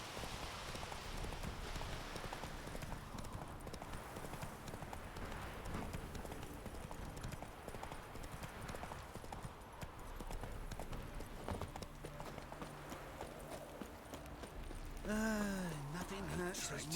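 Roach the horse galloping in The Witcher 3, a quiet steady run of hoofbeats clip-clopping under game music, with a brief rising whinny-like sound near the end; someone talks in places.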